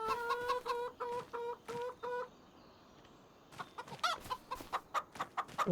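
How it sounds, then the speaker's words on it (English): Chickens cluck in a farming video game, a rapid run of clear, close clucks, a brief lull, then another busy burst of clucking and squawks. "Stupid chickens."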